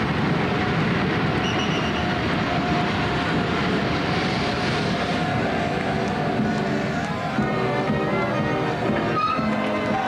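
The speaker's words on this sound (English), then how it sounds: "The train's slowing down." A train rolls along as it slows down, a continuous loud rumble and clatter of carriages heard from inside, with faint voices underneath.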